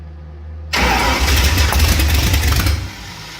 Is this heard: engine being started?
yes